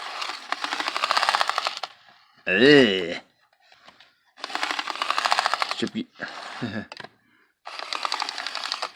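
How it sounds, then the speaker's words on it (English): A Bachmann U36B model locomotive with a pancake motor and cracked nylon gears grinds in harsh, rattling bursts, stopping and starting several times, with a brief voice comment between runs. "That's the sound of cracked nylon gears, I should say"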